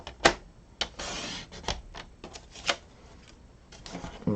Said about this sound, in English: I'm going to bring my cutter back in. And I'm just going to cut this in half.